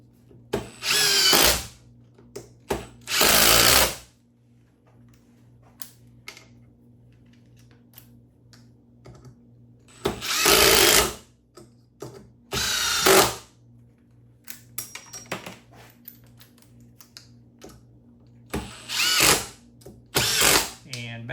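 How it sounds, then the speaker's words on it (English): A Milwaukee M18 impact driver drives screws in repeated loud bursts of a few seconds each, its rapid hammering whine separated by quiet pauses, with some faint handling noise between runs. "up last I've got the Milwaukee M18 impact driver"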